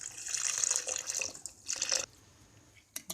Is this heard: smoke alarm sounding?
no